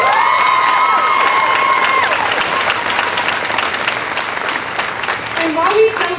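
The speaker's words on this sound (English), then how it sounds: "Give yourself a round of applause." A commencement audience at Hollins University breaks into sustained, loud applause, dense clapping mixed with scattered cheers that fades slightly toward the end, with voices in the crowd.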